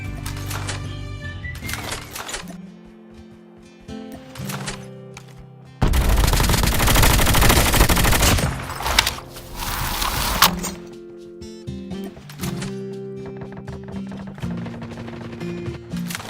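SMG gunfire in the COD Mobile battle royale game, a sustained loud burst of rapid automatic fire lasting several seconds between quieter in-game sounds and music-like tones.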